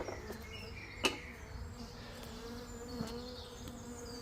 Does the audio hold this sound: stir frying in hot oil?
no